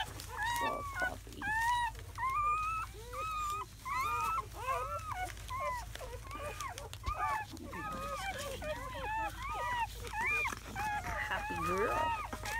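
Seven newborn German Shepherd puppies whimper and squeak in a busy overlapping chorus of high, wavering cries, close by, with a steady low hum underneath throughout.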